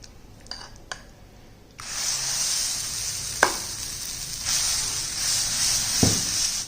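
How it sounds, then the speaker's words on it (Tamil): Dosa batter hits a hot griddle smeared with ghee for a high-protein dosa, setting off a sudden loud, steady sizzle that keeps hissing close by, with a few light taps before it and scattered clicks during it. "இப்போ உங்களுக்கு தோசை ஊற்றுறேன்."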